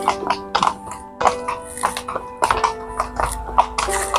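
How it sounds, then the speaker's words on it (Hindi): A horse moves near stables by a lake in northern Italy, its hooves clopping in an irregular series of sharp, close clatters over a faint steady tonal hum. "आई थिंक मुझे देख के घोड़ा भाग गया उसका।"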